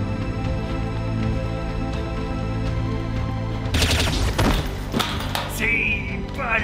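Video game gunfire in an Italian parody of a shooter mission: steady low rumbling combat at first, then a burst of sharp, loud shots and impacts cracking through in the second half.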